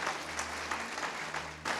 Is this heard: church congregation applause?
yes